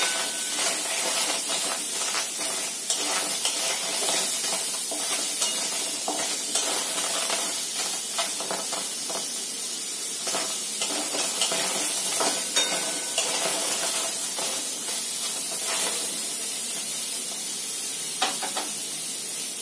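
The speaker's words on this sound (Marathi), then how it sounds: "आलं आणि टोमॅटो आपण कढईमध्ये छान असं परतवून घेणार आहोत" Ginger and tomato sautéing in a kadhai, a steady close sizzle and hiss with frequent light spatula scrapes and stirs, no talk.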